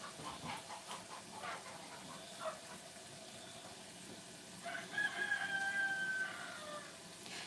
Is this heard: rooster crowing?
yes